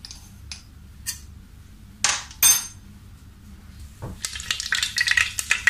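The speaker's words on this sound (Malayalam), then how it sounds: "എണ്ണ ചൂടാകുമ്പോൾ നമുക്ക് കടുക് ഇടാം." Mustard seeds tipped into hot oil in a pressure cooker for Kerala sambar, starting with a few clinks and taps, then building into a crackling, popping sizzle that grows busier toward the end.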